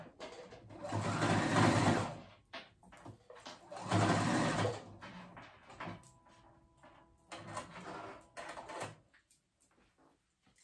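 A sewing machine stitches ruffles onto a dress in three bursts of rapid, steady needle clatter, with quieter pauses of fabric handling and small clicks between them.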